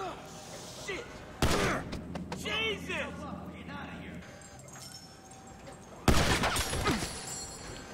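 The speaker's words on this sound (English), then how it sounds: "Nice shooting there, Michael." Gunfire from the game GTA V during a corridor shootout, with loud sharp bursts around the second and sixth seconds amid chaotic combat noise, and a character's voice shouting in between.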